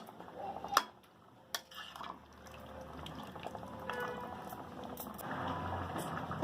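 Chicken being mixed in a cooking pot with water, quiet scraping and clinking of a utensil against the pot with a few sharp knocks, followed by a soft, steady bubbling wash.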